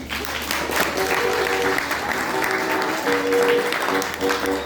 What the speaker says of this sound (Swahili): Hiyo makofi yenu haina imani.